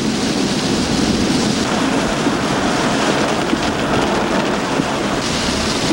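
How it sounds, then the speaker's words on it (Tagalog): Heavy typhoon rain pounding an expressway in near-zero visibility, a loud, dense, unbroken roar of downpour and spray that holds steady throughout with no voices. "Walang tigil ang ulan hanggang sa makarating kami ng Zambales."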